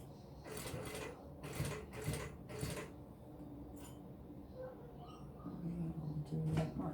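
A sewing machine runs in several short bursts while stitching a wristlet strap, quick whirring runs separated by pauses, close and moderately loud with faint handling noises between.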